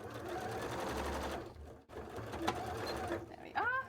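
A sewing machine runs in short bursts while stitching scale pieces, its rapid mechanical whir stopping briefly and restarting up close, with a little faint talk.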